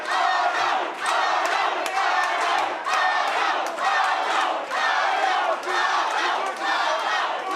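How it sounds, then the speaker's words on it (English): An arena crowd at a Combat Night fight in Fort Lauderdale roars and chants loudly and continuously, with surges of shouting and cheering rising and falling in waves. "The crowd is going crazy for Dan."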